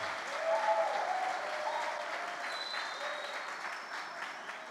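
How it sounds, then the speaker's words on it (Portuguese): A church congregation applauds during a sermon, a sustained dense roar of many clapping hands that peaks early and slowly tapers, with a few faint cheers and voices underneath. "dê uma forte salva de palmas para Jesus."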